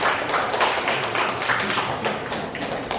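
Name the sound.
class applauding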